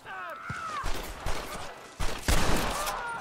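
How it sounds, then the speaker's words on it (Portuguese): Rapid volleys of gunfire crackle through a battle in the video game Red Dead Redemption, shots bursting repeatedly and growing louder near the end, with shouting voices mixed in. "Escuchen como cantan los tiros!"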